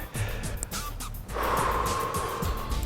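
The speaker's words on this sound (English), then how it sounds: "See how much bigger of a breath that is." A deep belly breath drawn in slowly through the stomach during a post-workout stretching demonstration, rising into a long, steady, close inhale after a brief lighter breath.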